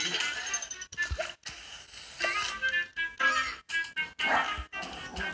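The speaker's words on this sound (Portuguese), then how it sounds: "Desculpa o barulho, que tem um cachorro desgraçado latindo aqui." A dog barks repeatedly somewhere nearby in short, uneven bursts over busy mobile-game music and effects. No one speaks.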